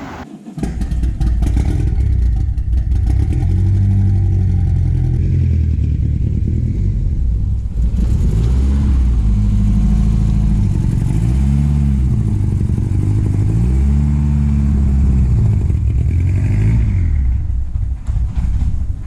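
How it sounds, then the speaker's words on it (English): A loud, close turbocharged 2.2 car engine with a suspected blown head gasket revs repeatedly, rising and falling in pitch with a throaty rumble and rattling 3-inch exhaust. "Nice 3-inch exhaust."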